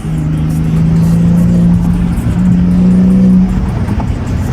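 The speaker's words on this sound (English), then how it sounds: "I definitely hear that turbo spool" A rebuilt BMW 540i engine drones steadily at close range, with a sustained whine rising over the rumble as the turbo spools, fading slightly near the end.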